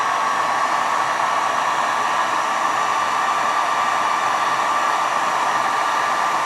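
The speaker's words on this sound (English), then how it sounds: "So let me get my heat gun and we'll do that." Continuous, loud blowing roar of a heat gun warming a block on a Philco 42-340 radio, steady and unbroken throughout with no talking.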